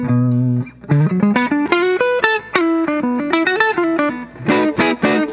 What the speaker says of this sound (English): So that's the neck humbucker,